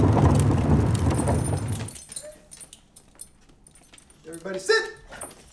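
Several dogs whimper and yip close by amid a noisy burst of activity, followed by a person talking while soft dog noises continue.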